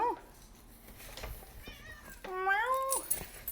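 A cat meows at a door with a few rising, drawn-out calls, close and fairly clear, with the last meow the loudest and longest over a quiet room.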